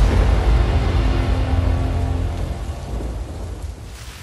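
Heavy monsoon rain pours down in Payyanur, Kerala, with a loud, steady roar and deep thunder rumbling underneath that slowly fades, with no voices.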